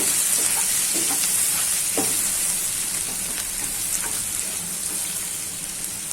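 Ginger, garlic and green chili paste hits hot oil in a pan for gunda shak, with a loud, steady sizzle and occasional scraping, clinking stirs up close and no voices.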